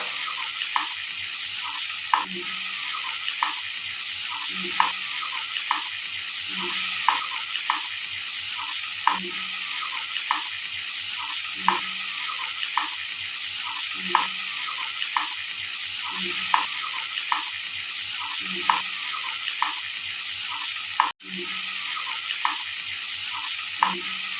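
Curd fish curry with coriander leaves frying in a pan: steady close sizzle with regular scraping strokes of a spoon stirring, rhythmic throughout.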